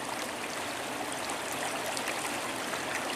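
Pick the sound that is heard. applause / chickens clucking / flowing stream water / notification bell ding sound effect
flowing stream water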